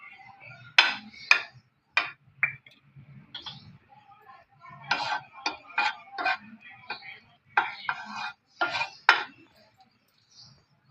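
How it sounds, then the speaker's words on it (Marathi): Bread toasting in butter in a pan, heard as a series of close clinks, scrapes and taps of a utensil against the pan in uneven bursts, with a soft sizzle in the background. "तर आता मी पहिले ब्रेड भाजून घेणार आहे।"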